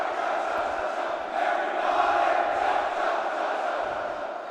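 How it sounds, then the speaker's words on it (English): A crowd at a high school basketball game makes a steady roar of cheering and shouting that swells slightly in the middle, with no single voice standing out. "And there's our crowd once more."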